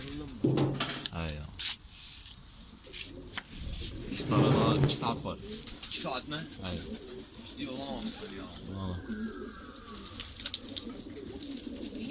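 Pigeons coo in soft, throaty bursts amid rustling and shuffling, with people talking nearby throughout, at a pigeon loft in Şanlıurfa, Turkey.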